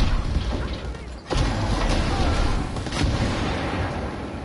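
Explosions in the Wolfenstein Cyberpilot VR game, a dense rumbling roar of blasts that holds loud and continuous throughout with a brief dip, and no clear voice over it.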